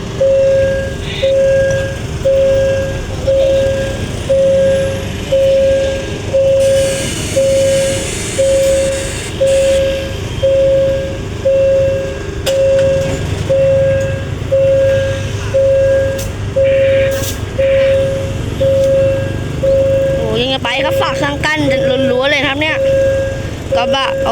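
A railway crossing alarm rings in a steady repeating pattern at the U Thong crossing in Thailand as train 946 approaches and the barriers lower, over a low rumble, with voices talking in the background.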